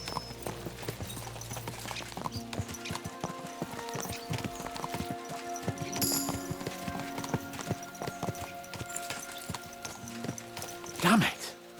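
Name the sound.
horses galloping in video game Kingdom Come: Deliverance II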